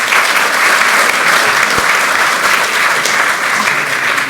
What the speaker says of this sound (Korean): 다시 한번 뜨거운 감사의 박수 부탁드리겠습니다.